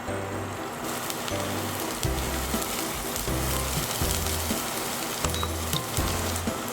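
Chopped onion sizzles steadily in mustard oil in a pan, a continuous crackling hiss with soft background music running underneath.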